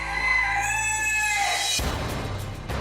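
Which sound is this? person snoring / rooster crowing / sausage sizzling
rooster crowing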